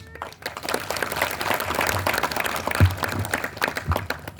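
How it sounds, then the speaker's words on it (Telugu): An audience claps together in a sustained round of applause at an outdoor Hindu religious gathering in a village, with dense, steady clapping and a few louder bursts throughout. "వాళ్ళకు ఒక్కసారి అందరం గట్టిగా చప్పట్లు కొడదాం."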